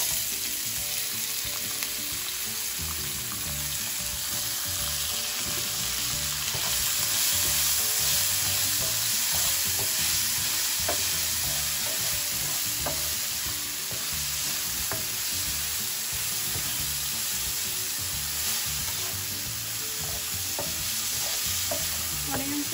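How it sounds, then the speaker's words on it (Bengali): Chopped onion and a little chopped tomato frying together in oil for a carp fish gravy, a steady close sizzle with occasional stirring scrapes and clinks throughout, no talking. "আমি এখানে আধা কাপ অনিয়ন চপড আছে আর অল্প একটু টমেটো চপড আছে এগুলো দিয়ে দিচ্ছি একসাথে"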